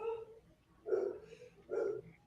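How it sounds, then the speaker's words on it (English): Dogs bark at home, three separate barks spaced about a second apart, moderately loud and somewhat distant, with no talking over them. "That's my dogs, by the way, barking."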